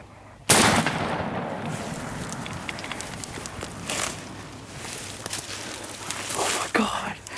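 A single sharp, loud gunshot from a youth turkey hunt cracks out near the start, followed by a sustained wash of outdoor noise and quiet voices.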